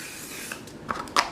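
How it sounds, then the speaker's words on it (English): Charlotte Tilbury setting spray misted onto the face, heard as two quick, soft hissing spritzes close by near the end of an otherwise quiet moment. "Then I'm gonna spray my face with the Charlotte Tilbury setting spray again."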